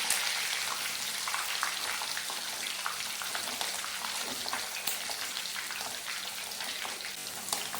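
Green chillies and ginger sizzle and crackle steadily in hot oil over a low flame while being sautéed for a lime pickle, a dense continuous frying hiss with small pops throughout and no voices.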